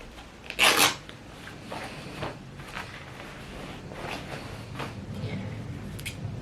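Denim fabric is torn by hand, giving one sharp, loud ripping burst near the start, followed by faint rubbing and rustling of the cloth.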